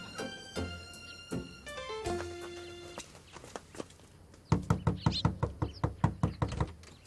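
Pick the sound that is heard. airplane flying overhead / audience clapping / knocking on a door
knocking on a door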